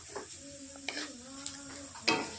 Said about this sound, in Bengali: আলু পেঁয়াজ ভাজা হয়ে গেছে, এবার আমি দিয়ে দেবো পরিমাণ মতন হলুদ গুঁড়ো, আর দিয়ে দেবো ধনে পাউডার আর লঙ্কা পাউডার।